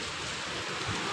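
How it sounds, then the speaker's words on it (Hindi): Heavy rain pours down in a steady, dense hiss with no pauses or other sounds, close and fairly loud throughout. "बारिश हो रही है माशाल्लाह बहुत ज़्यादा"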